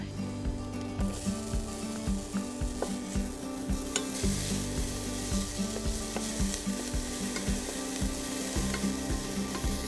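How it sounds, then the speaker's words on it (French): Onion sizzles as it fries in hot oil in a saucepan, with steady close-up crackling and regular stirring scrapes. "Dans une casserole, vous allez faire chauffer l'huile et y faire revenir l'oignon."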